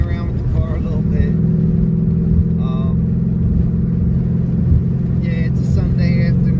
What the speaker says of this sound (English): I'm just out going through the gears, going around a little bit.